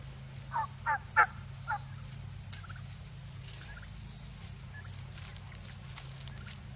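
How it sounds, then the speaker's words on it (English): Broad-breasted white turkeys, mostly toms, let out four quick gobbles near the start, then fall quiet over a low, steady hum of farm background noise. "These are broad-breasted whites. I ordered all toms, but they did send one hen."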